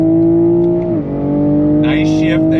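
A 2022 Toyota Supra 3.0 pulls on throttle in third gear with a loud, steady engine drone heard from inside. The tone briefly dips about a second in, then resumes, and a short voice sound briefly rises over it.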